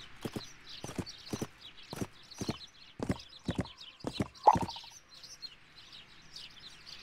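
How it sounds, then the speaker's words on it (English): Horse hooves walking in the My Little Riding Champion video game: a steady clip-clop of about a dozen crisp hoof strikes, with birds chirping softly in the background. "Ride your horse into the marker and use the displayed control to care for it."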